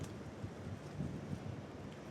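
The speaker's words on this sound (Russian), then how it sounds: "прям лютейший ветер" Strong gusts of wind buffet a smartphone microphone outdoors near water and trees, producing a constant low rumbling roar with uneven thumps over about two seconds.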